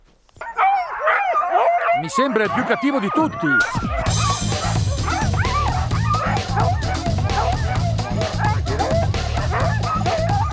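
A pack of sled dogs yaps, howls and barks excitedly before a dog trek, loud and continuous with overlapping voices, while people talk nearby over the din.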